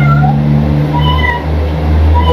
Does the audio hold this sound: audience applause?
no